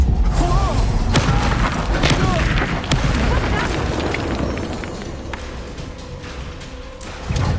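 An Incendio fire spell blasts during a battle in Hogwarts Legacy: a dense, loud wash of booms and crackling impacts with sharp hits, continuous throughout and mixed with game noise.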